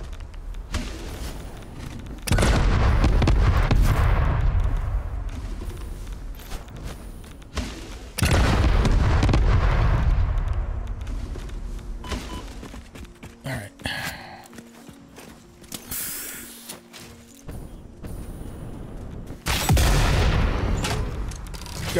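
Enemies in the video game Satisfactory throw bombs that explode in several heavy booming blasts, each followed by a decaying rumble, with quieter gaps and scattered clatter between them.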